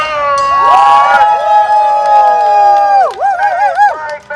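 A marching crowd at a reparations march cheers and shouts loudly, with whistles and high voices rising over a steady roar of noise that swells and dips throughout.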